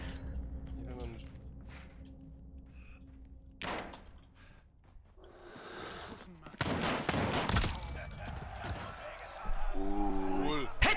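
Colt pistol gunfire in Call of Duty: Warzone: sharp, fairly loud shots crack out in a few separate bursts, including a cluster near the middle, while someone talks over the action.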